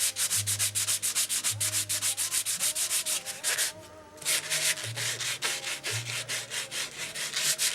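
Rhythmic back-and-forth sanding strokes on a model aircraft's wood surface between finish coats, steady and close, with a brief pause midway before the scraping resumes.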